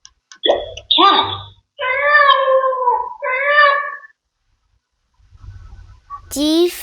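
An electronic talking flash card device for toddlers plays a recorded cat meowing: two drawn-out, clear meows close up, after a short spoken prompt from the device, with another brief voice sound at the end.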